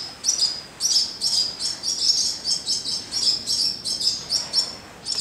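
Martins chirping around a barn nest, a rapid string of bright twittering calls repeating in quick bursts, close and fairly loud, with no voices.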